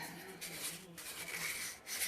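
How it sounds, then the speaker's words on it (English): Sandpaper rubs lightly over a small part of a miniature cotton candy machine in quick, close, scratchy strokes, heard alone. "just get the entire thing, lightly sand it."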